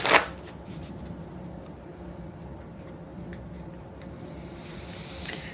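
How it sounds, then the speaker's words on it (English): Tarot cards being shuffled close up, a sharp riffle at the start followed by a steady soft rustling shuffle, alone without talk. "let's pull some more tarot and get some clarification on these cards"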